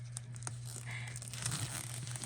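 Plastic packaging from a paper craft kit is torn open up close, with soft crinkling and tearing rustles that run steadily through the clip.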